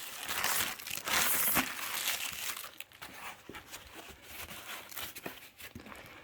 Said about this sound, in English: they put that plastic all the way inside